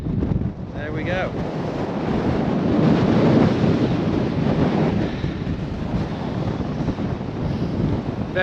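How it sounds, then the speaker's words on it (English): Strong wind buffets the microphone on a Lake District fell summit north of Skiddaw, a continuous loud rumbling roar with gusts swelling and easing, and a brief voice near the start. "Very windy"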